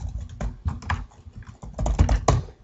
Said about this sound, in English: You type in your username and password